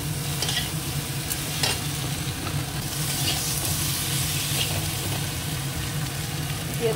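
Cauliflower and potatoes fry in a pan with spices, tomato and a slit green chili, giving a steady, dense sizzle with occasional light stirring scrapes, close and constant throughout.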